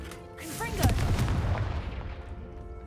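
A Confringo blasting spell goes off in the Hogwarts Legacy video game, a sharp close boom followed by a rumbling, crackling tail that fades over a couple of seconds, with a voice talking briefly over it.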